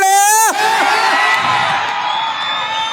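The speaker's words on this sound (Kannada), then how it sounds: "ಬರ್ಲಿ ಜೋರಾದ ಚಪ್ಪಾಳೆ." Loud crowd cheering and whooping at an outdoor folk music stage show, opening with a sustained shout and continuing as dense, close, noisy cheers and applause for a singer arriving on stage.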